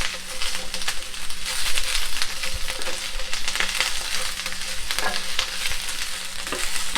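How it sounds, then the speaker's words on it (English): Baby corn stir-fried over a high flame crackles and sizzles steadily and close by, with repeated scraping and tossing sounds throughout and no talking. "Just 2 to 3 minutes of stir fry will do"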